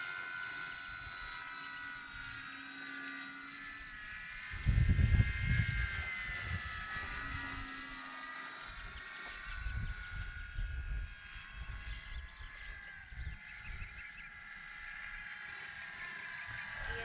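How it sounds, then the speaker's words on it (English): An RC Hawker Hurricane warbird model plane on a 4S battery flies in to land, its motor a steady buzzing drone with a wavering pitch. A few low thumps and rumbles sit underneath, with no speech. "Alright, you gotta land this fast. It's a warbird."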